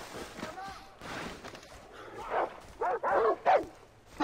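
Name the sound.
dog barking in video game Far Cry 3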